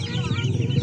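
Chickens and other poultry at a morning market in Sungai Bayor, Selama, Perak, clucking steadily through a dense, continuous hubbub of market noise.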